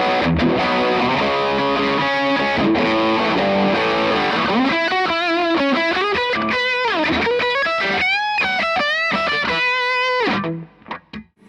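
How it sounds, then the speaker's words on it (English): Les Paul electric guitar through its bridge humbucker pickup, heavily distorted, playing sustained chords and then a run of single-note lead lines, loud and continuous before cutting off near the end. "So with the Les Paul now, with the bridge position selected, you should notice that there's slightly less hum."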